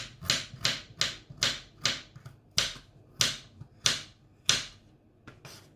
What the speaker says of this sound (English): we are going to cut off the turmeric just this way